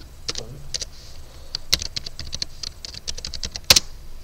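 Quick, irregular clicks of keys on a computer keyboard as a password is typed, close and clear with a couple of sharper taps, no voices.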